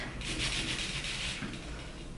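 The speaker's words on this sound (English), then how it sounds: "I'm just gonna take my 5-petal cutter" A five-petal cutter presses and twists through gumpaste rolled just under a millimeter thick, giving a close, steady scraping rub that lasts about two seconds with no talking.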